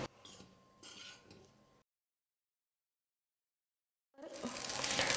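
A spatula stirs street-style egg fried rice with pepper and coriander in a pan: light scraping and clatter, a silent gap, then louder, continuous stirring.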